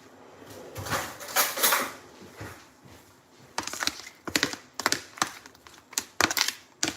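Food ingredients are mixed in a bowl with a utensil, producing soft scraping swells followed by quick clinks and taps against the bowl's side. The sound is quiet and close, with no talking.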